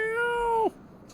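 A pet cat named Gibby sits on a bed and gives a single clear, drawn-out meow lasting just over half a second, close and fairly loud, then cuts off into a quiet room.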